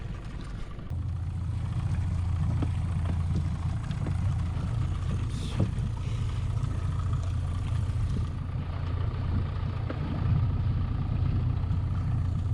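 A fishing boat motor runs steadily on the Rideau Canal with a low, continuous rumble and hum throughout, close and fairly loud, with no talking.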